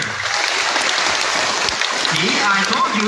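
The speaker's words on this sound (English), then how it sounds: "Come on, clap your hands." Crowd applause from a sea lion show audience, a steady wash of many hands clapping throughout, with a presenter's voice speaking over it.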